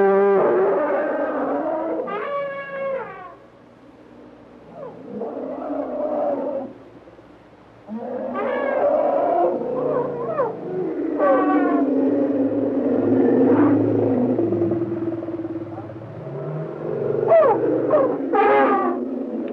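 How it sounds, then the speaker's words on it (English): Captive elephants bellow and trumpet loudly during an outdoor show, with several harsh, rising calls in bursts separated by short pauses over a constant low rumble. "During their daily outdoor shows, frequently the elephants will loudly express their resentment."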